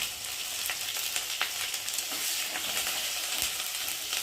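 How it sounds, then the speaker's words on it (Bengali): Spices of cumin, chilli and turmeric powder with tomato sizzle in hot oil in a pot of Gobindobhog rice khichuri while being stirred, a steady close frying crackle with scraping stir strokes throughout. "একটু ভালো করে নেড়ে নেব।"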